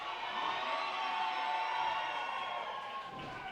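A wrestling crowd in an arena cheers and shouts in a sustained, fairly distant roar that swells slightly and then eases toward the end.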